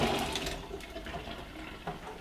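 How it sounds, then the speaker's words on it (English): Cooking water and rice are poured from a pot into a strainer, making a steady rushing, splashing flow of water that runs continuously for a couple of seconds. "transfer the water in the rice to the strainer"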